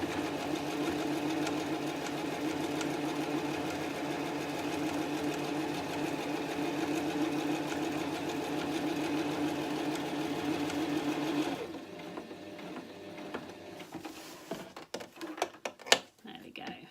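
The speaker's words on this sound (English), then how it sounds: "all I've done is sewn just down the side of my pocket there, just to hold that first side in place" A sewing machine stitches down the side of a fabric pocket for a pencil roll in one long, steady, close run that stops near the end, followed by a few handling clicks and knocks, with talk throughout.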